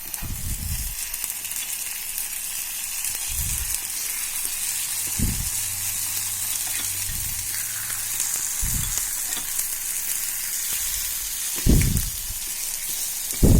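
Kuzhi paniyaram sizzling steadily in oil in a paniyaram pan, a constant bright frying hiss with occasional low thumps and scrapes as the balls are turned.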